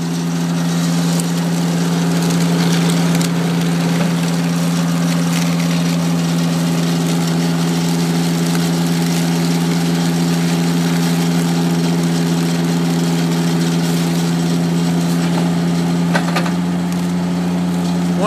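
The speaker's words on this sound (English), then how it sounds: "we've got a series of knives on both sides that kind of shave this and get these pipes exactly square" Knives of a pipe facing tool shave the ends of HDPE pipes square during fusion work, giving a continuous rough shaving rasp over a steady, loud engine hum that runs throughout.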